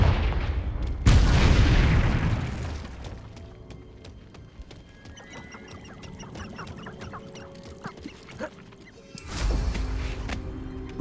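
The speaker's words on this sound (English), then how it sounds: "Confringo!" Confringo blasting spells in Hogwarts Legacy erupt as two loud, booming explosions, one near the start and another near the end, with quieter crackling game effects and mechanical clicks filling the gap between them.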